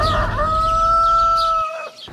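A rooster crows once, a loud, close, drawn-out cock-a-doodle-doo that holds a steady pitch before breaking off, with faint clucking-like fowl sounds at the edges.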